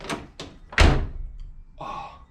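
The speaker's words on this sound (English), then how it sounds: "this is prime F-body, Camaro, Firebird, whatever, door close." A Pontiac Firebird F-body car door swings shut with a solid, loud thunk, preceded by two softer handling clicks and followed by a brief rattling latch sound.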